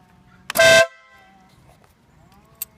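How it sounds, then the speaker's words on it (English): A single short, very loud blast from a Wolo Bad Boy air horn fitted to a BMW R1200RT motorcycle, close and piercing, followed by quiet idle background and a couple of faint clicks. "upgrade the horn on the bike to, you can see underneath there, a Wolo bad boy"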